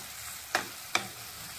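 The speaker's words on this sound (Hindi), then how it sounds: "अब चम्मच को चला लेंगे।" A spoon stirs softened tomatoes in a pan over low heat: two quick, close scrapes over a soft, steady sizzle.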